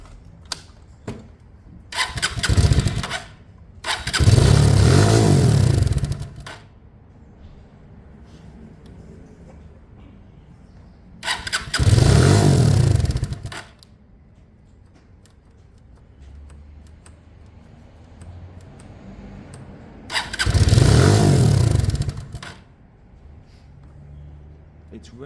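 A Lexmoto Michigan motorcycle, its carburetor just swapped, is started on choke three times, each start a loud burst of engine noise revving for a couple of seconds, with quieter pauses and mechanical clicks between them.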